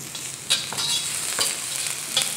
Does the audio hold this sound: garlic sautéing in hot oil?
yes